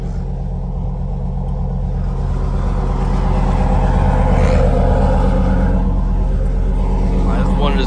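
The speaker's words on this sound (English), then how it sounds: "I'm just getting a few cars moved around the yard right now" A Chevrolet Camaro Z28 engine rumbles loudly nearby, idling and building slightly as it is moved around a yard, with a person talking over it.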